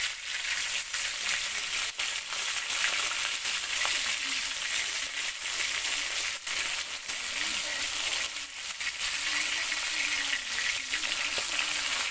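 Turned tilapia pieces keep frying in soybean oil in a wok with a steady, close sizzle and crackle, broken by occasional sharper pops, while a faint voice murmurs in the background.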